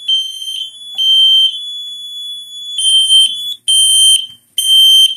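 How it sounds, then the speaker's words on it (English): A loud, shrill fire alarm on a Notifier NFS-320SYS panel test beeps in repeated high-pitched pulses, starting with long tones and then faster intermittent bursts, close and alone. "the alarm that just activated"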